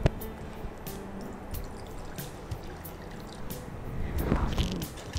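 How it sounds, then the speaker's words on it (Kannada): Water poured into a bowl in a home kitchen, quiet drips and splashes building into a fuller pouring stream near the end. "ಹೀಗೆ ಈ ಬೌಲಿಗೆ ಸ್ವಲ್ಪ ನೀರು ಹಾಕಬೇಕು"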